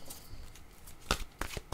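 Oracle cards being shuffled by hand, a few soft papery riffles and slaps close by, with quiet gaps between the brief bursts.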